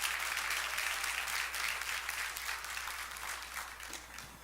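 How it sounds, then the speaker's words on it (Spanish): Church congregation applauding visitors during a service, a steady, dense wash of clapping from a crowd that continues throughout without talk. "Dale un aplauso a cada persona que está visitando en este día."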